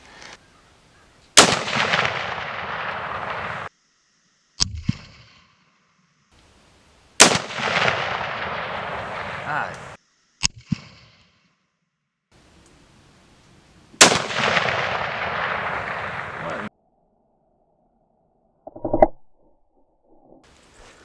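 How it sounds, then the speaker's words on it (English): Three loud, sharp 300 Win Mag rifle shots fired outdoors at cans, each a booming crack with a long rolling echo that fades over a couple of seconds, separated by quiet gaps and brief clicks. "we're gonna make an adjustment and try to hit these cans with them powerfully inaccurate bullets"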